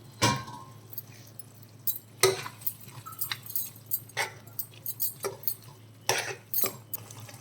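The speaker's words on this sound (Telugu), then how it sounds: "ఒకసారి కలుపుకుందాం" A utensil stirs egg tomato curry in a pan, giving irregular scraping clinks and knocks against the metal, close and fairly loud, in uneven bursts over a low steady hum.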